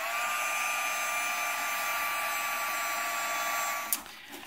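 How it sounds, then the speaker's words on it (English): Heat gun fusing encaustic wax medium, a steady close blowing whir with a faint whine running continuously, then cutting off abruptly near the end. "I'm going to use my heat gun for this fusing instead of the iron."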